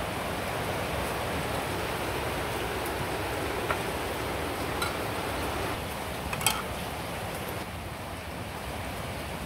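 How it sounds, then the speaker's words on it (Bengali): Heavy rain pours down in a steady, dense hiss of drops on surfaces, with a few brief louder patters and no voices. "কি বৃষ্টি নামছে রান্নারও দেওয়ার বানিয়ে নাকি এত বৃষ্টি"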